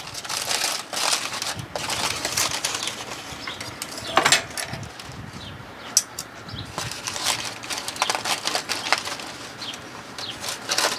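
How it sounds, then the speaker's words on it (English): Crinkling foil is peeled away from smoked beef back ribs cooked on a Recteq RT-1070 pellet smoker, a close, continuous crackle and rustle with a few sharper snaps. "let's go ahead and get these unwrapped"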